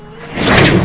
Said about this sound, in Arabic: صاروخ دز من فوق.